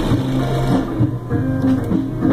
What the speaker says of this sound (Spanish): Vamos a coser una vez más para cerciorarnos de que la máquina ya está cosiendo como debe de ser.